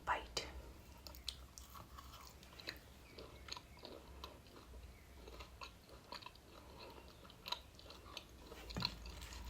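Quiet, close chewing of a bite of roti with eggplant sabji, soft wet crunches and bites repeating irregularly with faint low background noise.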